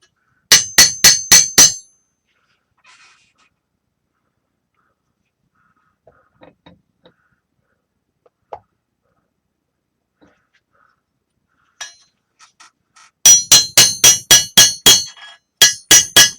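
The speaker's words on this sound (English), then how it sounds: "I think maybe I should stop using this hammer." Two rapid bursts of sharp metallic hammer strikes, one at the start and a longer run near the end, separated by near silence with faint small knocks.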